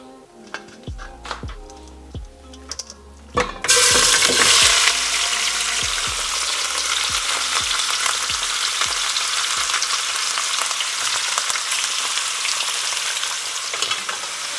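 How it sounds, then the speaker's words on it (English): Shrimp dropped into olive oil in a pan: a few clinks and taps, then a sudden loud burst of frying that settles into a strong, continuous sizzle with occasional scraping stirs, close up and without talk. "Now that we have our olive oil in there, let's go ahead and throw in our shrimp."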